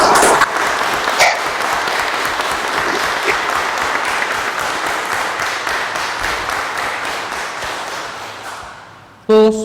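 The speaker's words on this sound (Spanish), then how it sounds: "Aplaudamos vuestro logro." Sustained, loud applause from the audience at a Supreme Court swearing-in ceremony for new lawyers. Dense, steady clapping fills the hall for about nine seconds before cutting off abruptly.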